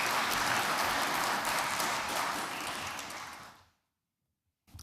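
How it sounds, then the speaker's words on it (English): A conference audience claps steadily at a report launch, a broad sustained roar of applause that tapers off after about three and a half seconds into silence. "Will you please give a round of applause to Minister James Brown?"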